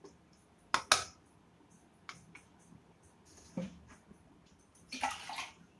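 Water splashes into a metal pot of okra tamarind curry in a few short pours, with clinks of a utensil against the pan between them in a quiet kitchen.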